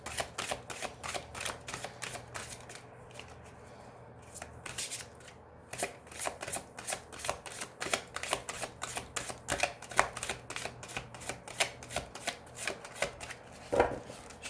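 Oracle cards of the Oracle de Béline deck being shuffled and cut by hand: a close, steady run of crisp card flicks and riffling clicks throughout, with no talk.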